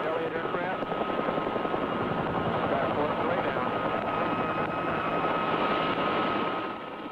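A rescue helicopter's steady rotor thrum and engine roar, loud and continuous throughout, fading slightly at the very end.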